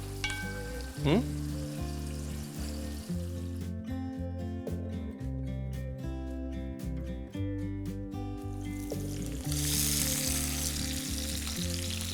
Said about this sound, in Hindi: दूसरी तरफ चिकन भी भूनते रहें, मसाला नीचे नहीं लगना चाहिए, ना ही चिकन नीचे लगना चाहिए।